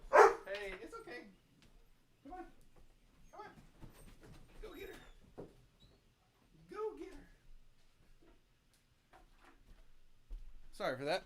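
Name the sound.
dogs barking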